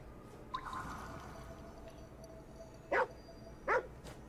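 Short barks from a dog in the video game Ghostwire: Tokyo, a couple of sharp yelps spaced apart over a quiet game background, fairly close and moderately loud.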